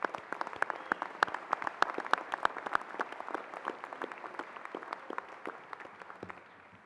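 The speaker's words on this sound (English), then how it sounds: "And a round of applause for our graduates." Applause for dentistry graduates at a university graduation ceremony: a steady patter of many hands clapping, moderately distant in a large hall, fading slightly toward the end.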